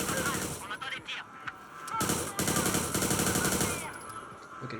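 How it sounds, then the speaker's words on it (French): Bursts of automatic gunfire in the open-world game Watch Dogs 2 during a police shootout, loud and repeated in rapid volleys with brief gaps, over a background game soundtrack. "On entend des tirs."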